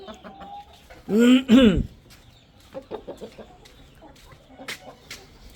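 A short burst of loud chicken calls, a rooster-like squawk lasting under a second, followed by quieter scattered farmyard clucks and rustling.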